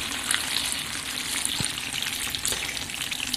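Chicken thighs and potatoes with sauce sizzle steadily in a frying pan, a continuous bright crackle with small pops throughout, no voices.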